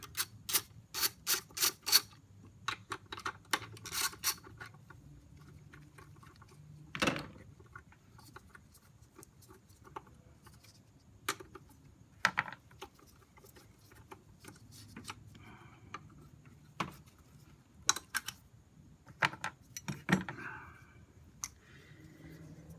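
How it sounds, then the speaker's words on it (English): A 10mm socket wrench loosening bolts on a 2006 Honda Civic gives quick bursts of ratcheting clicks, then sparse single ticks and clacks of metal, close and quiet, with no voices. "Then you'll use a 10mm socket and you'll take these two bolts off."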